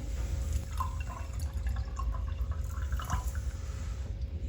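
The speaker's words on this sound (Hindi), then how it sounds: "यहाँ पे अब मैं आपको डाल के गिलास में" Lemon mint sharbat being poured into a glass, a soft continuous trickle with light dripping and splashing over a steady low background hum.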